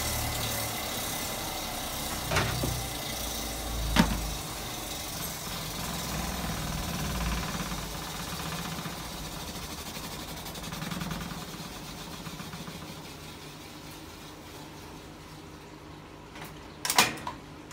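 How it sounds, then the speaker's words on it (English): A Hotpoint Supermatic De Luxe 9414 washing machine runs its final spin cycle, a sustained close mechanical hum and whir with a few knocks and a clunk near the end, with no voices. "There we go, it's final spin."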